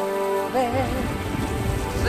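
Steady rain patters and hisses on a surface at close range, with a soft singing voice and music underneath, in a song for children about Noah's ark.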